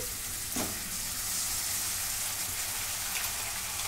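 Steady sizzling of a ground tomato, garlic, coriander and ginger paste frying in a pan for egg masala, a broad hiss with a brief clatter near the start, continuous and fairly close, no voices.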